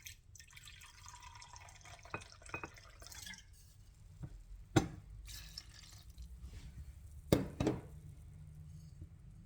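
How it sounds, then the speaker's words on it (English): Port wine poured over fruit, a quiet liquid trickle with scattered drips and a few sharp clinks or taps against the container, close and without talk. "you're going to take a cup and a half of this, and you're going to pour it over that fruit"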